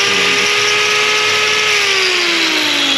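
Hoof trimmer's angle grinder held close and running loud and steady, a high whining tone that sags slightly in pitch toward the end as the disc comes under load.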